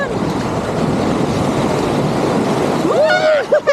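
Continuous roar of waves and wind rushes close by for several seconds, then a voice shouts over it near the end.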